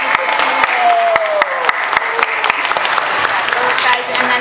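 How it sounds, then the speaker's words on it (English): Applause for Mrs. Aquino at a school wrap-in event, a dense patter of many hands clapping steadily in a room, with voices talking underneath. "Let's give Mrs. Aquino a big round of applause."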